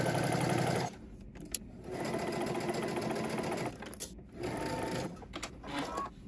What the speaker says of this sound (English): We're going to stitch down using 5/8 of an inch seam allowance.